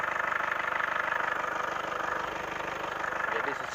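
A car engine idles steadily at close range while its radiator is flushed with water from a hose, giving an even, rhythmic mechanical throb that holds without pause.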